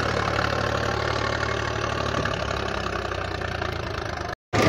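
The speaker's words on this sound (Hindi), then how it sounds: "ये आ चुका है अपना वापस ट्रैक्टर, सोनाली का 745 थर्ड 13 टांग का कल्टीवेटर के साथ में" Sonalika DI 745 tractor hitched to a 13-tine cultivator, its diesel engine running with a steady, close, loud knocking throb. The sound cuts out for a moment just before the end.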